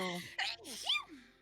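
A hyper sneeze as one person sneezes several times in a row, loud and close, with bursts of breath and voiced outcries between them.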